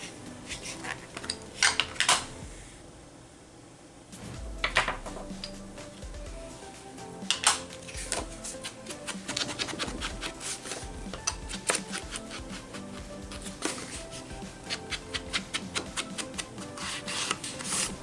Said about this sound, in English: I'm going to first distress these edges using this walnut stain